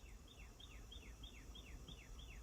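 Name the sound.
cardinals singing outdoors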